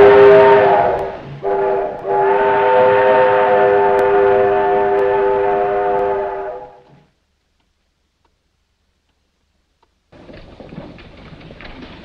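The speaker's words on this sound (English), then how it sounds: "train arrives" A steam-era train arrives in the 1952 western film High Noon, its horn sounding loud and sustained for several seconds with a brief break, then fading into silence before rumbling rail noise resumes.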